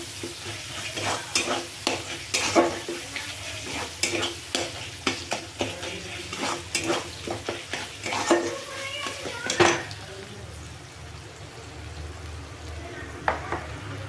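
Ginger garlic paste stirred and frying in a pan for chicken kosha, with repeated scraping strokes of a utensil against the metal and a steady sizzle underneath, close and moderately loud, pausing briefly near the end.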